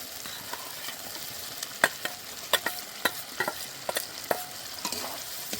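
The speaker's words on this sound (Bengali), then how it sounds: "এবার সেদ্ধ করা সয়াবিনগুলো দিয়ে দেব" Boiled soybeans fry in spiced oil for a vegetarian soybean curry as a low, steady sizzle. A spatula strikes and scrapes the pan in a string of sharp, irregular knocks, close and without speech.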